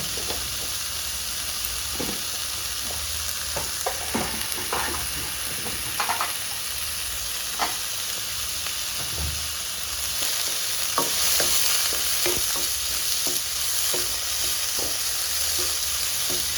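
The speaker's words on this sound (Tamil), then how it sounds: "இப்போ அதோட 1 ஸ்பூன் உப்பு போட்டு வதக்கணும்." Onions sauté with salt in a pan, sizzling steadily and loudly, with occasional clinks and scrapes of stirring throughout.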